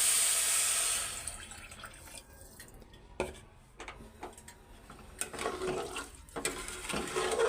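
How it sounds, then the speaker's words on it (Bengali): Water poured into a pan of fried rice gives a loud hissing splash for about a second, then settles into scattered crackles, ticks and drips nearby. "সুন্দর করে পানিটা দিয়ে নিই"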